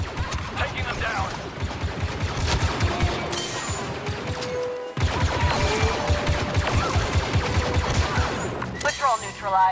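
Rapid bursts of blaster gunfire in a Star Wars Battlefront II battle, repeated shots crackling steadily over a loud backdrop of music and combat noise, with a short gap midway before the firing resumes.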